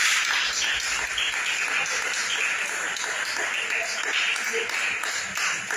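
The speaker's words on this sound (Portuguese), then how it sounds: "Dá uma salva de palmas para Jesus." A church congregation claps together during a worship service, a steady dense wash of applause filling the room for several seconds.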